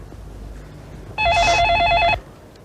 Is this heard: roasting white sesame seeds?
no